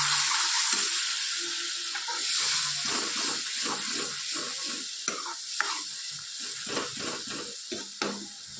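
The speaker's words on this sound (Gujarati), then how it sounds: "લીંબલીટ મસાલાને આપણે શેકાવા દઈએ. વચ્ચે આપણે એને હલાવતા રહીશું." Spiced boiled peas with hing, turmeric, coriander-cumin and salt roast in a pan for sev usal, giving a steady soft hiss with intermittent stirring scrapes and taps; no voices.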